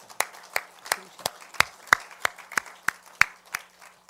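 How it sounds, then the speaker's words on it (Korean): Sparse rhythmic clapping in a church service, about a dozen evenly spaced claps over a few seconds, fairly close and clear with a low steady hum beneath. "이때는 박수를 쳐야 돼요."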